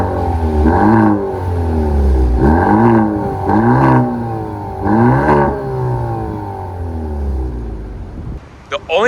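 A 2025 Maserati Grecale Modena engine revs up sharply about four times in a row, each rise falling back to idle, loud and close, with a brief rustle at the end.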